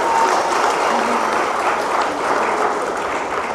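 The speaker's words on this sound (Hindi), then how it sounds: "तो एक बार मैं चाहती हूं उस पत्रकार के लिए भी ताली होनी चाहिए" Audience breaking into sustained applause at a Hindi-language speech event, a loud, continuous crowd of clapping hands lasting several seconds with no voices on top.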